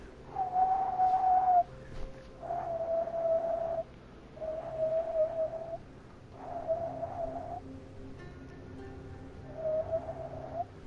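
A person whistles five separate sustained notes, steady and fairly close, with short pauses between each, heard alone without speech.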